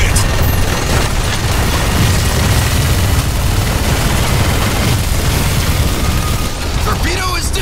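A torpedo blows up in the shooter game Bulletstorm, a loud sustained explosive roar with booming low rumble and mechanical rattling that fills the whole stretch, with a voice shouting over it near the end.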